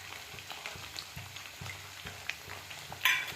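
Gravy with salt and turmeric fries on a high flame, sizzling softly and steadily. Low clinks from a spoon stirring in the pan repeat in a loose rhythm, and one brighter scrape comes near the end. No one talks.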